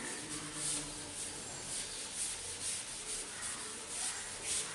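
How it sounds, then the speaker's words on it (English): Steady rubbing of an eraser or duster wiping writing off a classroom board during a physics lesson, a continuous close scrubbing sound with a faint back-and-forth rhythm. "So I'll just rub this out."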